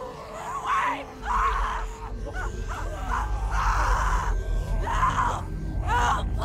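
A woman screams and groans in distress in a zombie drama setting. The cries come in several loud, drawn-out bursts over a rumbling low background.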